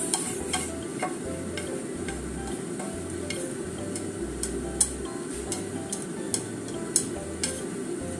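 Komatsuna and two eggs stir-frying in a pan, a steady soft sizzle with occasional light taps and scrapes of a utensil against the pan, low hum beneath.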